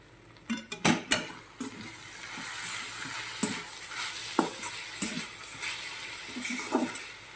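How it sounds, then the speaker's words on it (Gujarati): Amaranth leaf curry being stirred with salt and turmeric in a hot pan, with a spoon scraping and clinking against the metal in irregular strokes over a steady sizzle and no talk. "અને બરાબર આપણે મિક્સ કરી દઈશું"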